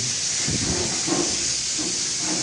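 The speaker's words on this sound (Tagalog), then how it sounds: "pinipresyon natin" A pressure cooker cooking beef hisses steadily as steam escapes, a continuous loud airy spray with faint low rumbling beneath.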